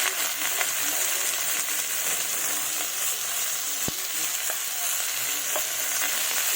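Fish curry with salt and turmeric sizzles in a pan while being stirred, a steady close frying hiss with occasional light scrapes and a sharp tap of the utensil on the pan partway through.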